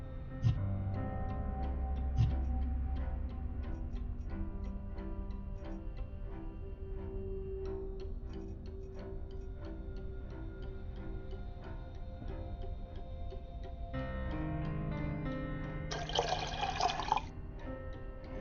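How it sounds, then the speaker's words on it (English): Distilled water rinses developer fluid off a photo during darkroom developing in the Black Mirror 2 video game, a faint steady trickle with small drips and ticks, rising briefly in a splashy burst near the end. "Now all I have to do is wash off the developer fluid using distilled water."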